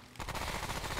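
Rapid automatic fire from the player's gun in Remnant: From the Ashes, a dense burst of shots starting abruptly and continuing loud and close for about a second.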